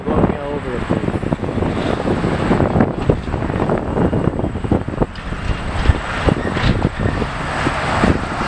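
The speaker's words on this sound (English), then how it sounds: "Sorry, the wind's blowing me all over the place." Wind buffets a microphone outdoors at an airport planespotting spot, a loud continuous rumbling roar with gusty bursts, while a person talks over it and distant aircraft noise sits underneath.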